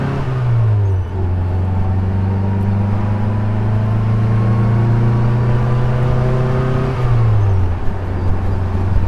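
A 1966 Austin Mini Moke drives along, its small engine giving a loud, close drone that steps through gear changes with rising and falling pitch, accompanied by wind and road rumble.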